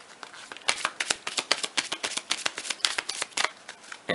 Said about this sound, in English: Now, we would like to shuffle the deck quickly,